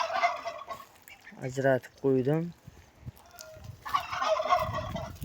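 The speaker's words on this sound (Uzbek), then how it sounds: "Xo'roz kurkalarni ajratib qo'ydim." Male turkeys gobble in two loud, rapid warbling bursts in the middle, with someone speaking briefly before and after them.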